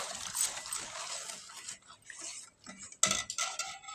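Jaggery being stirred into a raw brinjal tamarind stew, with a spoon giving soft scraping and clinking in a bowl, quiet and intermittent, then a sharper clatter near the end.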